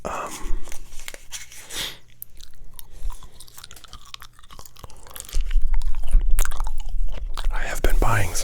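Close-up gum chewing for ASMR, moist crunchy chews and mouth clicks close to the microphone, heard alongside whispering.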